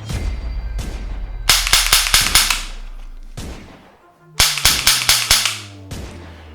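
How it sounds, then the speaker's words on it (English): A shootout breaks out in a comic Snow White parody, with two rapid volleys of sharp cracking gunshots separated by a few isolated single shots. The reports are loud and close, with some ringing tails between the bursts. "And then, everyone started shooting."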